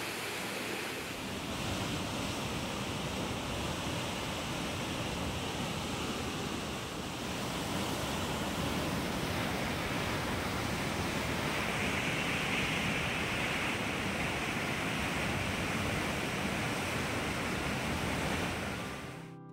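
Water rushes steadily through a water tunnel at a Rajasthan temple, a broad, unbroken roar holding at the same level throughout with no voices.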